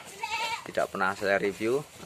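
Goats bleat in a goat pen on a farm in Lampung Tengah, Indonesia, their calls mixed in with someone speaking close by.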